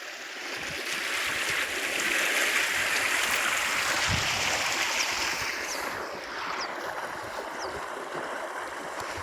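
Water rushing strongly through a farm channel, a broad steady roar and splash that swells in the first half and then eases slightly, close and continuous.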